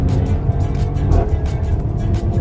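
A Mercedes-AMG CLA45 S engine roars steadily at high revs under full throttle on a straight, a loud continuous low rumble with slight surges, close by and without any talking.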